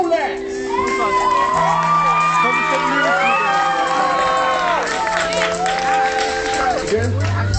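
A concert crowd cheers, whoops and shouts loudly, with applause mixed in. Melodic voices rise and fall over a low, steady tone throughout.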